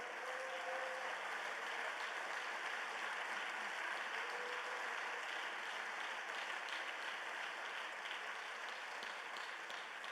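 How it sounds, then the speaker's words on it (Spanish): A church congregation applauds during a Spanish-language service, a long, even wash of clapping heard at some distance, fairly quiet and unbroken for about ten seconds. "Ese aplauso nuevamente a la presencia del Señor."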